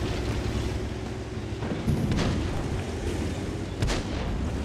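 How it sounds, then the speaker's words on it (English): Artillery fire in a tank video game, a few dull booming shots over a constant, loud rumbling engine-and-battle background, heard without talk. "Oh, no. Artillery."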